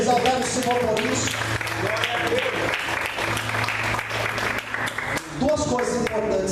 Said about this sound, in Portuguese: Você pode aplaudir a Deus, exaltar o Senhor por isso.